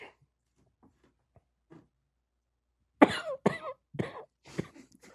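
A person coughs several times in a quick, harsh cluster of loud, close bursts, with only faint scattered small noises in the near-silence before it.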